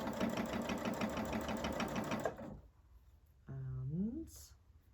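A domestic sewing machine stitches across a quilting seam in a fast, steady mechanical whir for about two seconds, then stops; after a quiet pause a person speaks close by.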